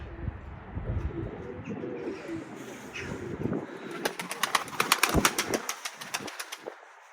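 Pigeons coo and birds flutter around a coop on a gusty morning. Steady wind noise runs throughout, and a burst of rapid wingbeat-like clatter builds near the end.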